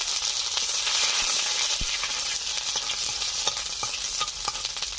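Crushed ginger sizzling in a wok of hot mustard oil with dried red chili and whole cumin: a steady, bright frying hiss with occasional pops and spatula scrapes, no voices.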